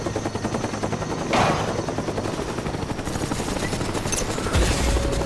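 In a video game, a Cobra attack helicopter drones steadily under dense, continuous rapid gunfire, with a couple of heavier impacts standing out.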